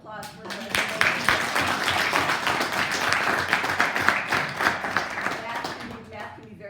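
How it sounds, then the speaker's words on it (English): An audience at a lively talk show event bursts into applause, crisp individual claps mixed into a sustained, rhythmic round with some voices and cheering underneath before it tapers off. "another round of applause for the"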